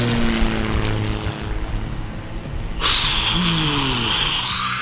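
A toy propeller plane flies past with a buzzing, whining airscrew drone. Partway through, its pitch jumps sharply higher and stays up, loud and close, with no voices.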